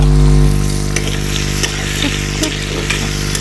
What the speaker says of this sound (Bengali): আলু টমেটো ভাজা হয়ে গেছে